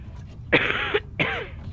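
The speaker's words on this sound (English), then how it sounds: "I am a bit ill, so excuse me for coughing." Two harsh coughs from an ill person, close and loud, separated by a short pause, with no talking around them.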